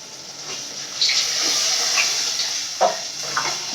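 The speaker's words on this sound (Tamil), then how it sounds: "இப்போ நம்ம குழம்பு எடுத்து ஊற்றிடலாம்ப்பா குழம்பு ஊற்றிக்கலாம்" Ground fish curry gravy for a koduva fish kulambu is poured into a pan over sautéed onions, giving a steady liquid rush with a few splashy accents close by and no talk.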